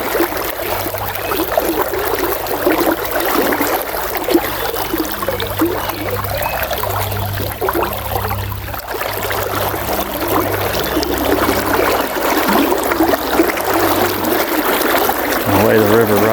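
River water rushes steadily past paddlers on a Kentucky river in summer, a loud, continuous hiss and gurgle that stays close throughout with no talk over it.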